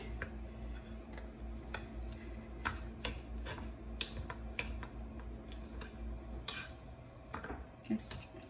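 A knife cutting through thick ribs while cooking, giving a series of sharp, irregular clicks and taps on a board over low kitchen background noise.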